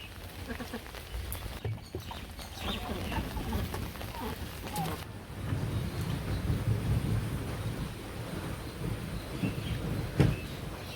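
Rain falling steadily in a village with deep, low rolling thunder rumbles, a few nearby knocks and an occasional bird call, while people talk quietly in the background.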